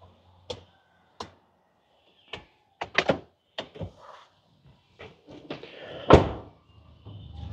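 Several sharp thunks and clunks ring out as the hood of a 2025 Isuzu D-Max pickup is worked open and shut, separate knocks spaced through quiet stretches, ending in one louder solid slam.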